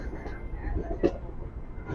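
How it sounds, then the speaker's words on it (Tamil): A train pulls out of a Chennai station with a low, steady rolling rumble and a single clank partway through, while a voice talks over it. "நம்ம ட்ரெயின் இங்கேருந்து கிளம்பிட்டுருக்கு."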